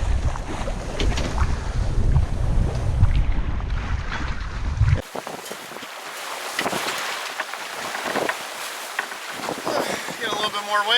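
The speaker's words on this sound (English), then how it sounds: "We're doing some sailing now." A sailboat under sail in building wind off the Southern California coast, with steady wind and water rush, gusty microphone buffeting early on, then lighter hiss of hull and waves.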